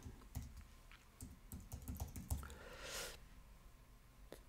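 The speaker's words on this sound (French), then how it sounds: "taper le texte que je veux voir apparaître" Text typed on a Mac keyboard in the Obsidian app, a quick run of soft close keystrokes with a brief swishy burst near the end, quiet and without speech.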